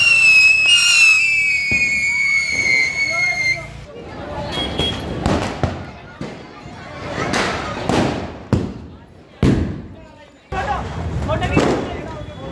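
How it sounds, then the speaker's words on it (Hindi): Firecrackers bursting outdoors during Diwali, a whistling rocket followed by a run of loud, sharp bangs and booming thumps at irregular intervals, some close and some farther off, with people talking among them. "बम बजाएंगे, बम बजाएंगे"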